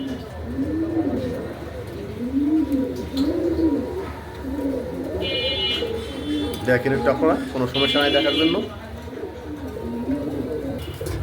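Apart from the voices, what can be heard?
pigeons cooing, nun pigeons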